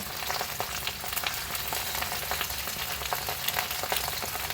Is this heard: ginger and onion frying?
yes